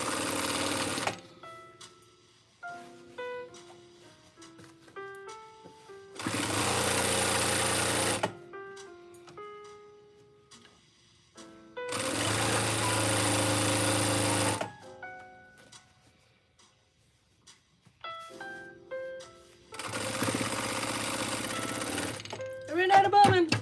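A sewing machine stitches a baby quilt in three loud, steady runs of a few seconds each, separated by quieter stretches where a person talks.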